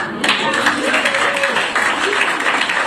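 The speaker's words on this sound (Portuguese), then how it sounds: "E o pessoal aplaudindo ali" An audience at a political rally applauds steadily, dense clapping running throughout beneath a voice speaking over it.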